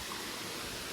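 A small waterfall at a forest site in Hosanagara, a steady broadband rush of falling water that stays even and unbroken through the whole short moment, with no voices over it.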